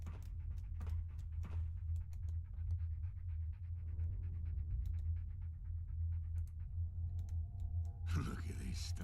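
Close, steady panting from a dog in the Fallout: London video game runs throughout, with light clicking and tapping sounds and a brief burst of noise near the end.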